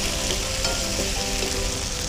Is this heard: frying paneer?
yes